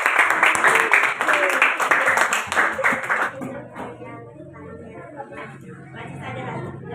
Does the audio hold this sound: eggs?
no